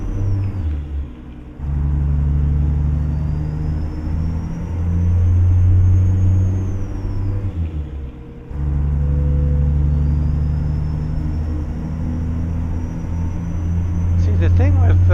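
A Mack B61 truck with a less powerful engine hauls a tanker in American Truck Simulator, its loud, steady rumble pausing briefly at gear shifts before rising again, with a short voice near the end.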